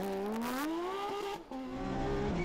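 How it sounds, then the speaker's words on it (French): Porsche 997 rally car on a stage, engine revving and pulling through gears with a brief lift-off dip, then climbing again, heard at moderate distance. "Et voici Tim van Parijs au volant de sa très belle Porsche 997."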